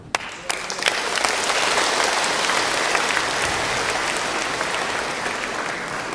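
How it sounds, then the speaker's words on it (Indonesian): A church congregation in Kota Kefamenanu, NTT, breaks into sustained, full applause during a healing sermon, a dense even wash of clapping that swells after a few sharp early claps. "Beri tepukan bagi Tuhan."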